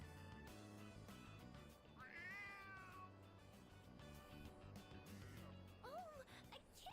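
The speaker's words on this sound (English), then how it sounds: "Oh, a kitty cat!" Cat meowing in the Persona 3 Reload video game, several plaintive rising-and-falling meows over a steady game music background, moderately loud and close.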